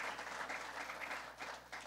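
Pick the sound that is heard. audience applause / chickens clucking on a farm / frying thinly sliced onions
audience applause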